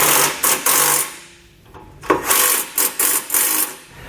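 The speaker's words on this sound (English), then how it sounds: "Now the 13mm socket is going to tighten up the bolts on the bottom of the board" A 13mm socket ratchet tightens the bolts of a running board on a 2018 Ford, giving rapid, rasping clicks in short bursts with a brief pause in the middle.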